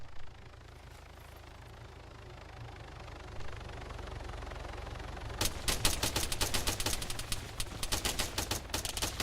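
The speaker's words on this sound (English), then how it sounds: "We're taking shots as well now." Gunfire in Arma 3 Wasteland: after a stretch of low rumbling ambience, a rapid burst of sharp shots breaks out about halfway through and keeps cracking in quick, uneven volleys until the end.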